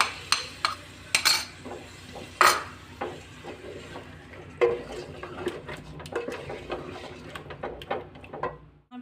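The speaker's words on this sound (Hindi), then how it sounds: "बस दही डाल के भी हमने मसाले को भून लिया है" Biryani masala being fried with yogurt in a pot for a spicy chicken and potato biryani: a steady run of sharp metal clinks and scrapes of a spoon against the pot, close and fairly loud, with a soft sizzle underneath.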